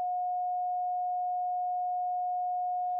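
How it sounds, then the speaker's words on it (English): A synthesizer oscillator holds a pure, steady sine wave tone for about three seconds, clean and unwavering, then cuts off abruptly. "the sine wave is kind of a smooth, gentle sound, not piercing, not too harsh"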